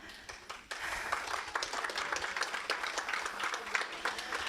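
A crowd at a Toastmasters conference breaks into sustained applause, a dense wash of many hands clapping that swells after a brief start and holds steady.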